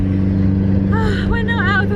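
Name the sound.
campervan engine running with a piece of exhaust missing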